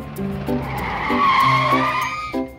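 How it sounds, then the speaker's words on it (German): A cartoon car drives by in a children's educational animation, with a loud rising engine whoosh and tire squeal swelling at the center, set against a bouncy musical background of repeated tones. "Schau, da ist ein Auto."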